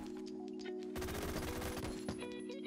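A Skorpion vz.61 machine pistol firing a fast continuous burst in the Roblox shooter Phantom Forces, rapid close crackling shots for about a second, then a single later shot, over a steady background hum.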